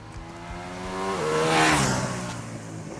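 A Ducati Multistrada V2 S motorcycle engine revs up hard on an open road, pitch climbing, then shifting and rising again as the bike passes close with wind rush.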